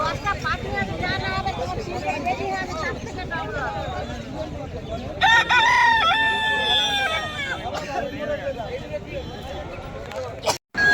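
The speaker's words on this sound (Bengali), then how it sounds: "এগুলো হচ্ছে দেশি মুরগিরই আর একটা জাত, এগুলো হচ্ছে সোনালী মুরগি।" Sonali chickens, a local Bengal breed, crowing and clucking at a busy poultry and duck market in West Bengal, with loud crowing bursts mid-clip over steady crowd chatter and background people talking.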